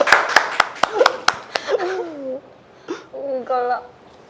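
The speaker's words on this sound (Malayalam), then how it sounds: "കൈയടിക്ക്." At a marriage proposal, a quick run of about seven sharp hand claps opens the moment, then gives way to voices and drawn-out, laughing vocal sounds.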